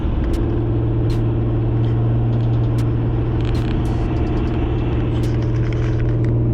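A Chevrolet Corvette C8 Z51 engine drones steadily and loudly at a constant pitch, a continuous close rumble with faint clicks on top.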